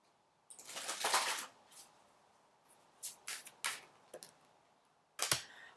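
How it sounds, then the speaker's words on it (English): Tarot cards are shuffled by hand in a quiet room, sounding as several separate crisp riffling bursts with short pauses between them, close and fairly soft. "I'm going to shuffle."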